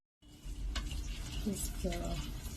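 Milk tea being stirred in a pan, a soft steady simmering hiss with a few light scraping spoon strokes, close and fairly quiet.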